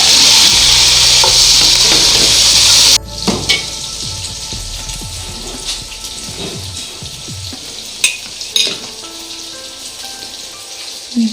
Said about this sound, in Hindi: ये देखिए गोश्त मैंने थोड़ा सा इसमें भून लिया है